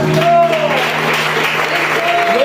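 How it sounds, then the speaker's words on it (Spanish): A church congregation claps in praise of God during a worship service, a short burst of applause mixed with a sustained tonal sound, likely singing or keyboard, for a couple of seconds. "¿Cuánto le aplauden a Dios?"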